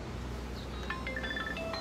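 A phone being dialed to call a door seller, with a quick series of short, clear keypad tones over a steady low background hum, no voices.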